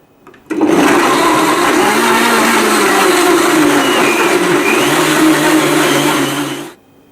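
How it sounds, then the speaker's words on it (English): An Oreo and nutmeg smoothie with cinnamon churns in a blender running on high, a loud, steady whir that holds for about six seconds before cutting off. "Now blend this on high for about 20 to 30 seconds"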